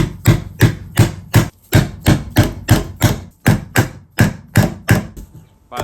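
A hammer strikes again and again during a guitar restoration, about two to three firm, close thuds per second in a steady rhythm with brief pauses, no voices.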